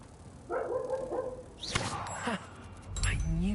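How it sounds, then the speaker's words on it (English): A dog barks a few times nearby, short sharp yelps in quick succession with a small whimper between them. "Sorry for the constant barking that you guys hear."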